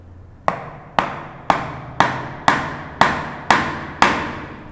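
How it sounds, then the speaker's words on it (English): A wooden dovetail joint for a tissue box is tapped together with a hammer: eight sharp, evenly spaced knocks about half a second apart, each ringing off briefly, close and loud. "you can hammer the rest of them in"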